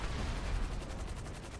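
Dense bursts of gunfire and explosions from GTA 5 crackle continuously in rapid, overlapping volleys, a loud chaotic battle with no pause and no voices.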